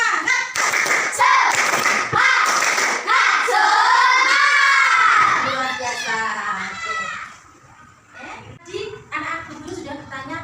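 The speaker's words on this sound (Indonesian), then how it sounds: "kita tepuk semangat dulu bersama-sama" A class of children joins in a rhythmic spirit clap led by a teacher, short bursts of patterned clapping mixed with loud chanting voices, ending in a few scattered claps and speech.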